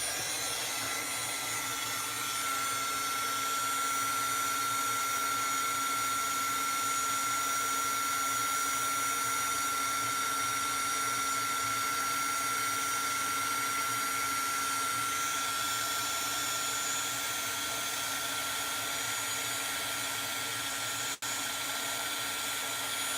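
Heat embossing gun blowing hot air over a craft piece, a steady close whirring roar with a faint tonal whine, running continuously throughout with no talking.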